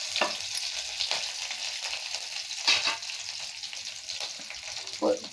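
Curry leaves crackle and sizzle in hot oil in a pan, a steady hiss with a few sharper spits and pops, heard alone and close during preparation of a lady finger (okra) fry.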